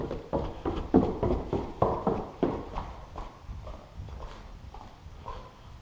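Footsteps walk around the back of a house in a steady rhythm, close and clear at first, then softer and more scattered toward the end.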